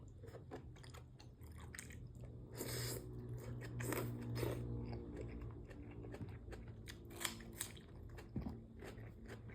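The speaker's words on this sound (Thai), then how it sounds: "ก่อนจะกินเด้อกุ้งดิบอ่ะ กำลังมากินนี่" Raw shrimp being bitten and chewed up close, quiet wet crunching and squishing bites in an irregular rhythm, with a few sharper crunches near the end and no talking.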